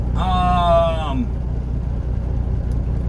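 Idling truck engine in a semi used for trucking, a steady low rumble running throughout, loud and close, with a brief talking voice near the start over it.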